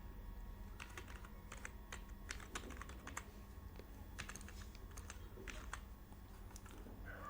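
Someone types on a computer keyboard while working in MS Word, producing quiet, quick clusters of light key clicks in uneven bursts over a steady low background hum, with no talking.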